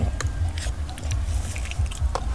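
Close, crisp bites and chewing of a crunchy Vietnamese duck egg by a Mekong riverside, with several quick crunches in an uneven rhythm over faint background noise.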